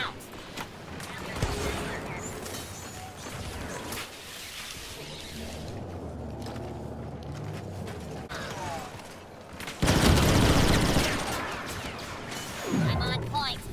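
Star Wars Battlefront 2 galactic assault combat: a grenade blast bursts loudly near the end amid mechanical clatter and scattered gunfire, with a voice talking through the battle noise.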